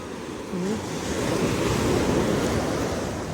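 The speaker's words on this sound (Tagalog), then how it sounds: "Lakas ang alon, no?" Strong ocean surf rolls in with a loud continuous wash, buffeted by wind noise on the microphone, building after a brief quieter start.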